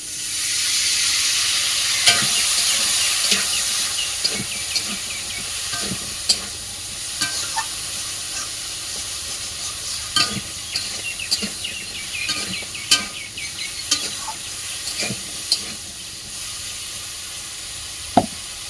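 Curry spices fry and sizzle in a pan over a blazing wood-fired clay stove, a steady hiss running throughout with frequent scraping stirs and clinks of the spatula, faint bird calls in the background.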